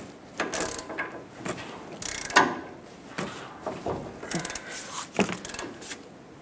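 Ratchet wrench tightening a new 22 mm drag link mounting nut on a Ford E-350, a series of quick clicking bursts in irregular strokes, close and moderately loud.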